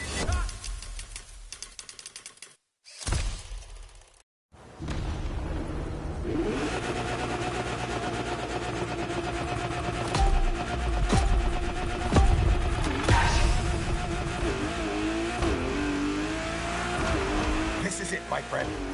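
A race car in The Crew Motorfest accelerates hard with a steady engine roar, tire squeal and revving, loud and continuous after a few seconds of choppy, broken sound with gaps at the start.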